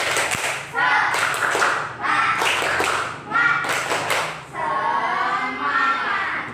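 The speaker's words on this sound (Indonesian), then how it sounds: "sebelum memulai pembelajaran hari ini, biar kita semangat, kita tepuk semangat dulu" A classroom group claps through a rhythmic "tepuk semangat" cheer routine at the start of a lesson. Bursts of clapping alternate with chanted voices, and the clapping stops near the end as the voices carry on.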